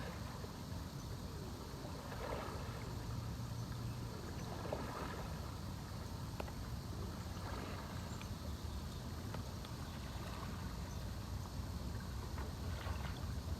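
Kayak paddle making sweeping horizontal strokes to spin a small paddlesport boat in a circle on open water, with soft splashes and wind noise throughout, steady and close, no talk.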